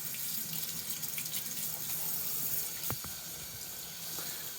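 Steady water running from a tap at close range while leather is wetted for wet forming a holster, a continuous even hiss with a few faint clinks partway through.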